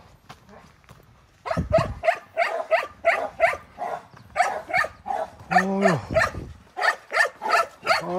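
A dog at a mountain-village home barks in a loud, repeated series of sharp yaps, with a person speaking briefly among the barks.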